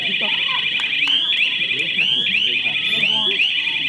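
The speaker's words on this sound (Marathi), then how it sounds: "जरूर ही चालू सामन्याची बझर रेड असेल." A buzzer sounds at a kabaddi match between two village teams, a loud steady electronic tone running through the whole stretch while a commentator talks excitedly and the crowd noise rises underneath.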